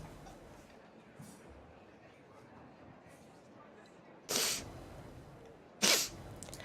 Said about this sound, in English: Pardon me, I'm gonna sneeze.